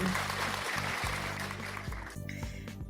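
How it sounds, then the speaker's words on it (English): Clapping applause beneath a steady low tonal hum of background music, moderately faint and continuous, with small breaks. "And a clap for them, because I don't have an awe button."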